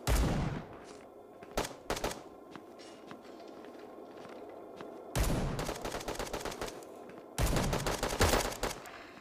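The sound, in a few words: gunfire in the video game Bullet Echo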